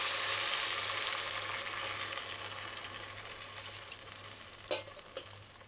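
Evaporated milk poured into a hot pan for chicken spaghetti alfredo on a stove turned down low, a broad steady sizzle that slowly fades, with a couple of faint clinks near the end.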